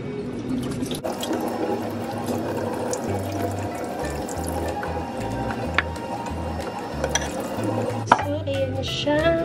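Shrimp are rinsed under running water from a tap into a sink while buttered garlic shrimp is being prepared, giving a steady close splashing and gurgling flow with occasional clinks.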